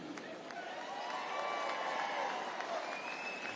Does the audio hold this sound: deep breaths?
no